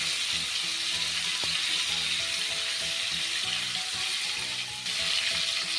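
Whole chicken for murgh musallam fries in oil with a loud, steady sizzle, joined by occasional clinks and tonal scrapes from the pan throughout.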